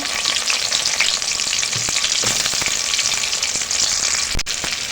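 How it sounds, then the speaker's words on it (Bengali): Chopped onion with whole spices and bay leaf fries in hot oil in a Bangladeshi home kitchen, giving a steady close sizzle with occasional stirring scrapes throughout. "পেঁয়াজটাকে একটু হালকা ভেজে নিব।"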